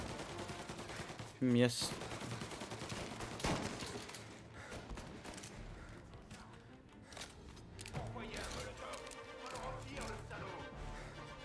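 Gunfire rings out in the video game Mafia 1, with a loud burst near the start and further shots and clatter amid busy game noise, while a voice speaks briefly.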